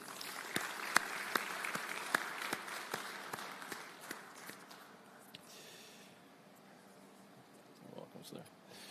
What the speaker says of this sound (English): another warm round of applause to Dr. Olusegun Omisaki